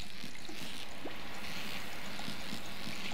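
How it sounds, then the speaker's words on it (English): Ocean water in Stardew Valley plays as a steady, soft wash of broadband surf and trickling water, continuous and even throughout with no voices over it. "Listening to the sounds of the ocean."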